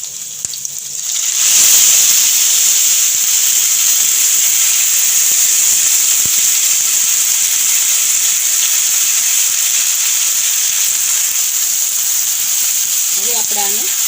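Drumstick leaves are dropped into hot oil in a pan with red and green chillies, setting off a loud, steady sizzle that hisses on evenly throughout.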